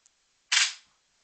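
A single sharp snap as a homemade Lego Technic rubber-band pistol fires a brick, one crisp close crack fading quickly, with faint clicks before and after and no talk.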